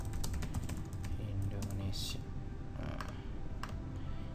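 Someone types a search keyword on a computer keyboard, producing a steady run of quick, close key clicks over a noisy hum, with a brief voice in the background.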